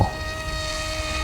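A Hubsan H301S Spy Hawk RC plane makes a flyby, its small electric motor giving a thin, steady insect-like buzz that holds briefly at moderate loudness.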